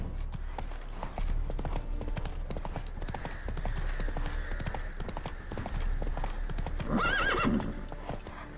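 Roach the horse galloping in The Witcher 3, rapid rhythmic hoofbeats close by, a loud neigh rising near the end.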